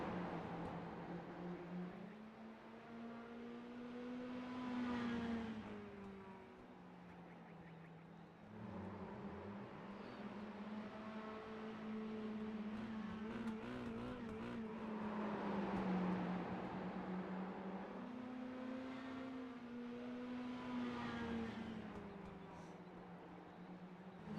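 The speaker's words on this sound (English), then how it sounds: "The majority of our drivers decided to take a few laps since we're closing out the warm-up." Mini stock race cars of the Slingshot Racing League run warm-up laps at Southern National Motorsports Park, engines droning continuously and swelling and fading as cars pass, steady and moderately distant.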